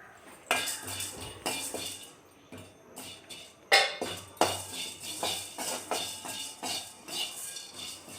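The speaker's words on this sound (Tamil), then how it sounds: "அதை நல்லா ட்ரை ரோஸ்ட் பண்ணணும்." Chana dal dry roasting in a pan over low heat for paruppu podi, heard as repeated metallic scrapes and clinks of a spatula against the pan, coming in short bursts with no frying hiss.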